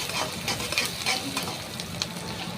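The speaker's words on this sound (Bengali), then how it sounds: "তো পেঁয়াজটাকে আমরা হালকা করে ভেজে নেব।" Onions fry in hot fish oil in a pan, giving a steady close sizzle with soft crackling and occasional stirring scrapes, no talk over it.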